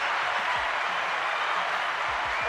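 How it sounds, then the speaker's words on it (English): Audience applause, a dense steady wash of many hands clapping at moderate distance, continuous and even throughout with a faint voice underneath. "Give her a round of applause."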